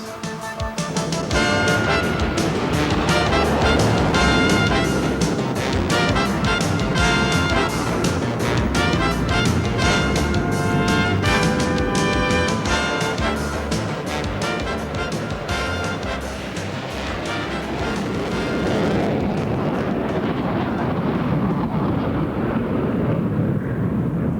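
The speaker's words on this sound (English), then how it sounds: "this is how it starts, with the thunder of afterburners echoing through snow-laden valleys" US Air Force jet fighters with afterburners lit roar through snow-covered Alaskan valleys, a loud, dense, continuous thunder that holds steady for most of the stretch before easing slightly near the end.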